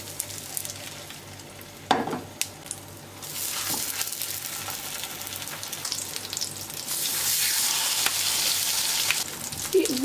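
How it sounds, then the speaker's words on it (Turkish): Potatoes fry in a few spoonfuls of hot oil in a pan, giving a steady close sizzle and crackle that swells louder in the second half, with a couple of sharp utensil clicks. "Yağ ısındıktan sonra patatesleri içine bırakıyorum."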